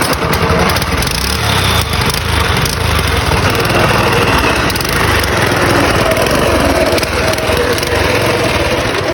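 A small engine drives a homemade rail vehicle along the tracks on a belt-driven test run, a loud, steady buzzing drone with rattling, constant from start to finish with no talk.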